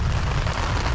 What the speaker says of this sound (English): so it's raining outside and here we are with a small umbrella.